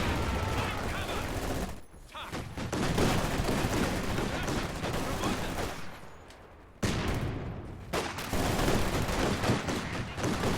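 Half-track firing on squads during a video game battle, dense continuous gunfire and explosions filling the whole stretch with brief dips, loud and busy.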